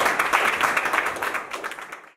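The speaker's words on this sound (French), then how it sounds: "j'aimerais bien qu'on applaudisse le golf de Mohammedia qui nous accueille" Clapping at a golf event held at the Mohammedia golf course. The applause is brief and scattered, fairly faint, and ends abruptly.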